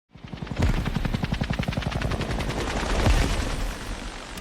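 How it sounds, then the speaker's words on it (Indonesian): A helicopter's rotor thumps in rapid, even pulses, loud and close, with a couple of sharp bangs cutting through as a rocket attacks it, in The Wages of Fear. "ketika mereka menaiki helikopter untuk mengambil truk, sebuah roket tiba-tiba menyerang mereka"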